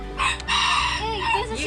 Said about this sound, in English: So they got chickens from all over the world.